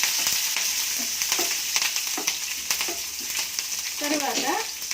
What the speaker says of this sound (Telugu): ఇందులోకి కరివేపాకు, పచ్చిమిర్చి, సన్నగా కట్ చేసుకున్న పచ్చిమిర్చి వేసి కొంచెం వేయించుకోవాలి.